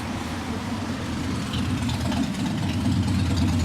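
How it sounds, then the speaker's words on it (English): A motorbike engine rumbles steadily nearby on a London street, a constant low throbbing drone mixed with general traffic noise. "See? You can hear it. There's a motorbike."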